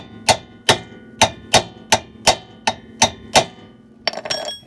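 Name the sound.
hammer striking a ball joint nut on a car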